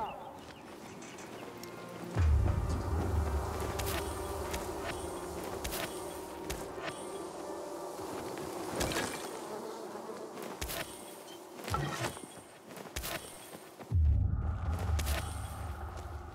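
Bee buzzing in the video game Dying Light 2, a persistent insect drone with scattered footsteps and thuds, and low rumbles rising and falling throughout.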